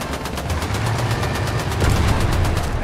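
Tank guns in a video game fire in a rapid, continuous burst, a loud, rhythmic machine-gun-like rattle over a heavy low rumble, with no voices.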